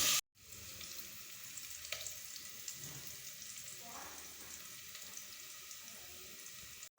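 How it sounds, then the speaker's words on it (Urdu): Onions and green chilies frying in a pan, a steady soft sizzle running throughout with faint clinks, fairly quiet and even. "ان کو براؤن ہونے تک پکائیں گے۔"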